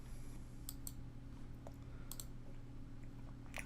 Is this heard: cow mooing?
no